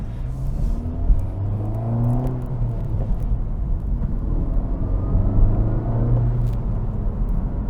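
A 2024 Acura Integra Type S with a manual transmission drives through town, its engine a steady, close rumble with gentle rises in revs and a low droning hum throughout, no talking.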